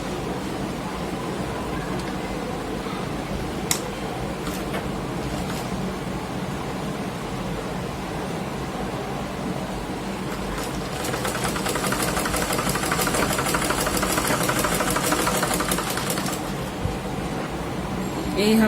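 A sewing machine stitches the side seam of a garment with a low mechanical hum and a rapid, steady needle rhythm that grows louder and faster midway before slowing again.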